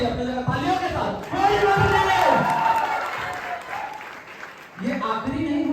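Audience applause and cheering at a motivational event swell loudly in the middle, with a speaker's voice heard before and after the crowd noise.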